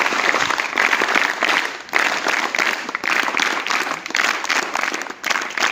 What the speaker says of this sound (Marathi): आपण सर्वांनी 3 टाळ्या वाजवून स्वागत करायचं आहे.